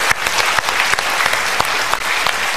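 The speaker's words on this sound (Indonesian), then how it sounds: "So kita berikan tepuk tangan dulu." An audience at a talk on women's emotions breaks into applause, loud and dense clapping from a crowd that stays steady throughout, with sharp individual claps standing out close by.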